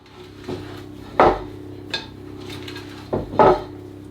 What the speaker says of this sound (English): So we just want to fold these ingredients together, get them nicely combined.